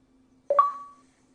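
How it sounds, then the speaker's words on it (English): A short two-note electronic chime from an Xbox notification during an online game, a brief rising tone that rings out and fades within half a second, heard alone over a faint steady hum. "Sorry, there's nothing I can do about the Xbox notifications."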